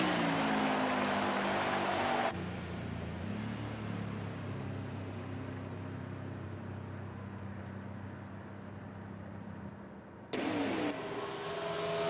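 Craftsman Truck Series racing trucks roar as they accelerate at the green flag at Charlotte Motor Speedway. A loud, dense, sustained engine drone fills the whole stretch, shifting in tone briefly near the start and again near the end.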